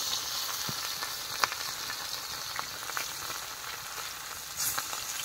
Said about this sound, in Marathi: तेल तर खूप गरम झालेले आहे। एक नंबर मछली फ्राय.